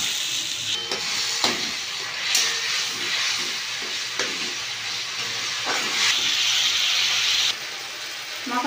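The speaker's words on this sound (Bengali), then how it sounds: "অল্প জল দিয়ে কষিয়ে নেব মশলাটা" Masala of oil, green chilli, a little sugar and a splash of water sizzles in a pan for jackfruit kofta, a steady hiss broken by occasional scraping stirs.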